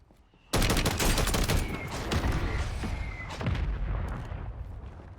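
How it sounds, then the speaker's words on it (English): Mortar strike in Warzone: a sudden heavy blast followed by a dense rolling barrage of explosions and booms, loud and continuous, swelling again near the end. "Mortar strike on the way."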